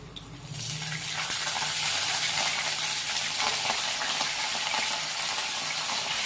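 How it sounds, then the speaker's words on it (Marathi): Potato pieces drop into hot peanut oil already holding fried chilies, setting off a loud, steady broadband sizzle that swells after a brief quieter start and holds without talk. "मिरची तळून झालेली आहे, त्यामध्ये आपण हा बटाटा टाकून घेऊया."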